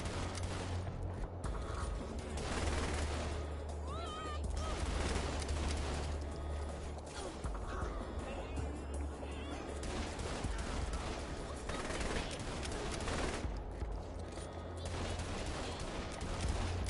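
Gunfire in the video game The Hood 2, dense bursts of shots running almost continuously over loud game music and effects.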